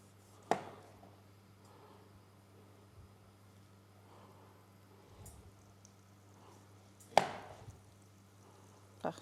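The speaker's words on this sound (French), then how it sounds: "je vais prendre mes poires. Oui. Et je vais les couper en rondelles" A knife cuts pears into round slices on a board: a few sharp, isolated chops with long quiet gaps between them, close but faint in a quiet room.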